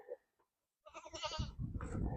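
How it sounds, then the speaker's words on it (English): A pregnant goat on a farm gives a loud, wavering bleat up close after a brief quiet, followed by rustling and a second shorter bleat. "We got some pregnant goats."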